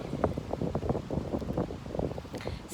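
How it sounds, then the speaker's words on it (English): Strong outdoor wind buffets the microphone in a gusty, rumbling rush, with uneven bursts of wind noise pulsing throughout. "So windy."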